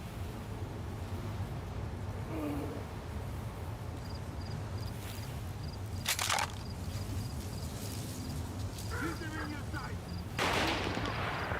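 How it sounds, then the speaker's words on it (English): Gunfire in the video game STALKER 2: a few sharp, distant-sounding shots ring out separately over a low, steady background, with faint voices now and then. "Who the fuck is shooting?"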